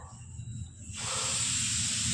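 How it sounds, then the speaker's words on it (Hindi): Pressure cooker whistle in a home kitchen, a sudden loud sustained steam hiss that starts partway through and keeps blowing steadily to the end, close by, with no talk over it. "सीटी भी आ गई है कुकर में"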